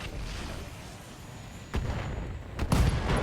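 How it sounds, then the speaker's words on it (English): An AC-5 ammunition explosion in the mech combat game RogueTech booms through a constant low rumble of battle, followed by a couple of sharp blasts near the end. "Ooh, AC-5 ammo explosion."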